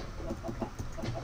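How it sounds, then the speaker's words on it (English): Chickens in the Minecraft video game clucking in a quick series of short, repeated calls, steady and close, with no talk over them. "Trying to kill his chickens, there we go."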